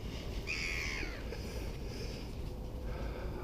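A crow gives one drawn-out caw while being fed in White Table Woods, loud and close over a steady low outdoor rumble, followed by a fainter second call.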